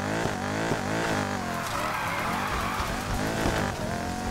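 A car in Need for Speed Heat drifts and spins out, its engine revving hard and wavering while the tires squeal and skid continuously, loud and close.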